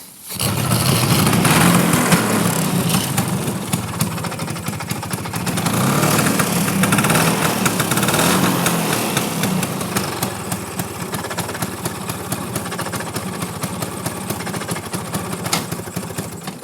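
A 1980 Vespa Super scooter engine idles steadily and loudly nearby, a continuous rattling putter that swells slightly and settles without revving.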